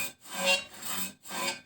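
A saw blade being sharpened by hand on a diamond plate: three close, rasping grinding strokes in a steady back-and-forth rhythm, with no speech.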